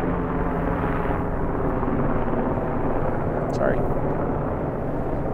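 Helicopters flying overhead produce a steady, low, rumbling drone that fills the whole stretch, with a brief spoken word near the end.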